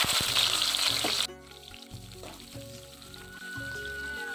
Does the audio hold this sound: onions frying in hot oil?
yes